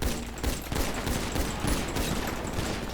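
Rapid bursts of gunfire crackle in a GTA V FiveM shootout, dense overlapping shots firing continuously at close range with sharp repeated peaks, no talking.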